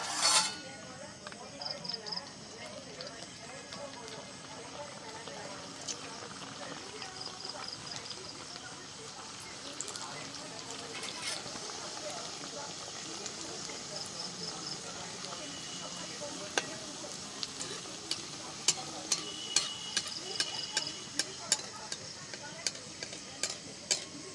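Pieces of a breakfast snack fry in a pan with a steady sizzle, with occasional stirring and utensil clicks sharpening toward the end.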